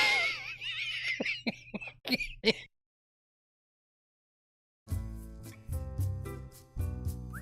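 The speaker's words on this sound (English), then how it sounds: "I had a coughing fit" A burst of harsh coughs and throat clearing in quick succession, then a few seconds of silence before more coughing with a faint vocal sound.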